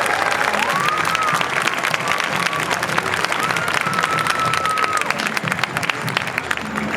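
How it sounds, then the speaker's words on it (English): An audience at the Boston Tuba Christmas concert claps steadily and densely throughout, a continuous wash of applause with a voice briefly audible over it. "If you give all of them a real big round of applause"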